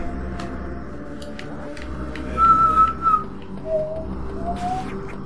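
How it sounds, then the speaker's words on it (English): A few thin, high whistled notes, one sustained and then two short rising ones, faint over a low background rumble. "What, whistling?"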